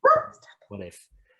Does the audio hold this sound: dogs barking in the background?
yes